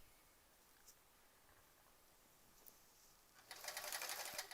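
A sewing machine free-motion quilts a sampler quilt, faint and quiet at first, then a short burst of rapid, buzzing stitching near the end against a soft background hiss.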